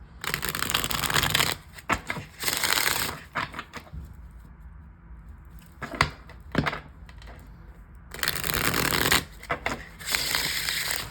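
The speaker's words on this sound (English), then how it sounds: "I'll be using this deck, so let me just give it a couple shuffles" Several bursts of cards being riffle-shuffled, loud crackling runs separated by quieter pauses and soft handling noises.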